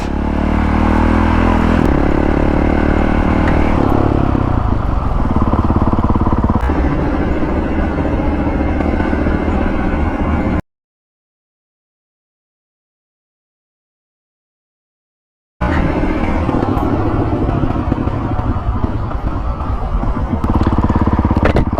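Supermoto motorcycle ridden on a tight off-road trail past downed trees, its engine droning loud and close with shifting revs and clatter, cutting out to silence midway before the riding noise resumes.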